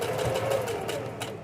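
A sewing machine runs steadily, stitching elastic and fabric together with the presser foot down, its motor hum continuous and close throughout.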